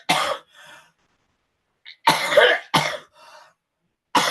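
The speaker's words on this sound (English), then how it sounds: "Imagine that, a video of someone coughing." Several sharp coughs in separate bursts, close and loud, with brief pauses of silence between them.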